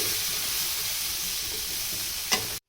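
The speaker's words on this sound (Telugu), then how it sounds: "కరివేపాకు, జీడిపప్పు, ఎండుమిర్చి, పచ్చిమిర్చి, పసుపు ఇవన్నీ వేసి వేయించుకోవాలి" Curry leaves, cashews, dried and green chillies, garlic and turmeric frying in oil for babycorn majestic, a loud, continuous close sizzle with one brief scrape near the end before it cuts off abruptly.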